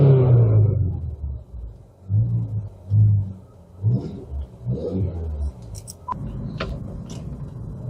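A 2007 Volkswagen Polo GTI with a 1.8T engine drives and accelerates, its engine giving repeated surges of revving rumble that rise and fall over a steady road roar, with no talking.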